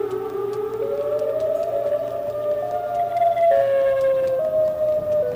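Siren Head's wailing siren in a horror video game, a long sustained droning tone that slowly rises and steps between pitches, steady and fairly loud with no talk over it.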